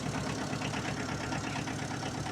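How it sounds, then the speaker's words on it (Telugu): An engine idles nearby with a steady, rough rumble and a faint rhythmic pulse. "ఇప్పుడే తీసుకొచ్చి ఇంజిన్ కూడా ఆపలేదు"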